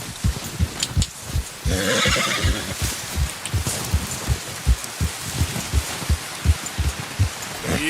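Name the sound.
horse neighing in video game Red Dead Redemption 2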